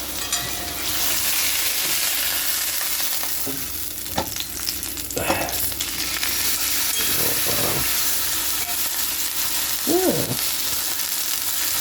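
A scored sirloin steak sears in a hot pan with a steady, close sizzle and a few brief scraping and shifting sounds over it, and no one speaks.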